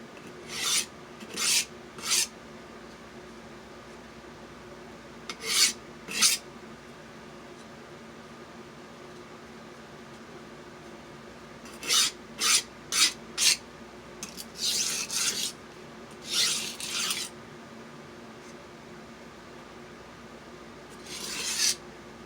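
A knife is drawn across a Baryonyx sharpening stone in short rasping strokes, a few spaced single passes and then quicker bursts of several strokes, close and fairly quiet against a soft room hiss.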